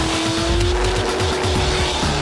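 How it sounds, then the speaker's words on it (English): An LS-engined drift car at Holley LS Fest 2011 screams around the track, its engine bouncing off the rev limiter while the tires squeal and skid, loud and close, with no talk. "going around the track, smoke pouring off the tires, the LS motor bumping off the rev limiter constantly"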